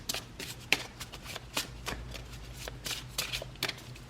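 Angel cards being shuffled for a Capricorn weekly tarot reading: a steady run of crisp, papery riffling bursts and soft slaps, fairly close and alone with no talk.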